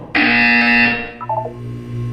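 A loud harsh buzzer blares once in the video game Portal 2, holding for about a second, then dropping into a lower tone with a few short pulses and fading into a sustained hum.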